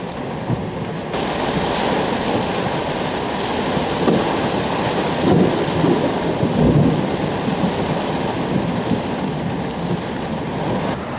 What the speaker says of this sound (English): we're in the middle of a thunderstorm. Thunder and lightning